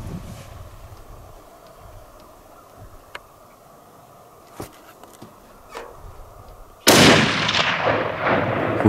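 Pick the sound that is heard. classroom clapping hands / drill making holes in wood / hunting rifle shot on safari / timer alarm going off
hunting rifle shot on safari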